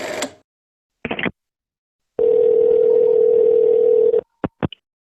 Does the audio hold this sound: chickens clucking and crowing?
no